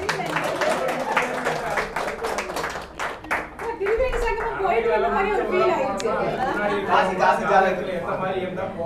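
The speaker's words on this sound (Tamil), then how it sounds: "அவருக்கு ஒரு ஒரு கைதட்டல் போடுங்க" An indoor audience claps together for a few seconds, then the applause fades as a voice begins speaking over a low murmur of crowd chatter.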